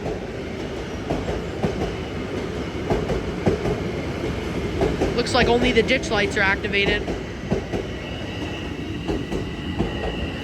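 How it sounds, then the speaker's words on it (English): An LIRR train of M3 cars, number 1072 from Penn Station to Ronkonkoma, rolls into Bethpage station at night with a steady rumble and brief wheel squeal, while someone talks nearby. "Now I'm pulling in this train 1072 from Penn Station to Ronkonkoma, my train to Bethpage"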